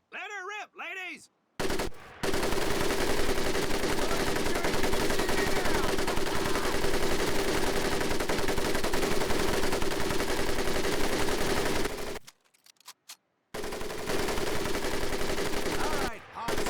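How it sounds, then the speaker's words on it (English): An M1919A4 .30 caliber machine gun fires in Medal of Honor Pacific Assault, a long sustained burst of about ten seconds, loud and dense, then a brief pause and another burst, with a short voice at the start. "M1919A430 caliber machine gun"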